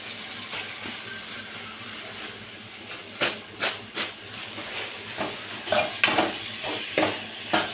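Grated coconut sautéed in a pan on low heat, a soft continuous sizzle broken by a string of scraping stirs and light spatula knocks against the pan, close by with no talking.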